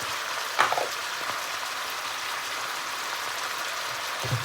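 Pork stir-frying with seasoning powder in a pan for a cabbage dish, a steady close sizzle with a few brief scraping clinks of the utensil, no voices.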